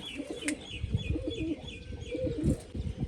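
Pigeons in a loft, where several birds give soft, repeated throaty coos and a few faint chirps, close and fairly quiet, with no one talking.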